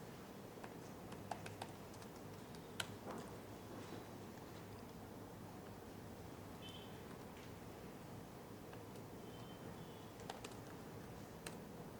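Keyboard typing of HTML and CSS code, faint, irregular key clicks with a few sharper taps over a quiet room hum.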